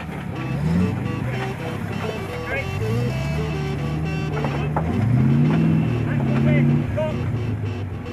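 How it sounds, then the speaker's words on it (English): A modified rally car with raised clearance crawling over rocks at the Rhino Charge off-road event, its engine revving up and down in rising and falling pitches while someone narrates over it. "The beauty of a modified car with clearance is illustrated here."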